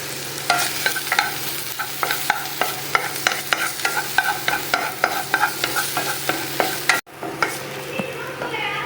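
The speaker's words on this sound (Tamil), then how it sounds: "கொஞ்சமாக எண்ணெய் ஊற்றிக்கலாம். பூண்டை நம்ம வதக்கட்டு." Garlic sautéing in a little oil in a pan, with a steady sizzle and a run of sharp spatula scrapes and clicks at a regular stirring rhythm, close and fairly loud, with a brief dropout near the end.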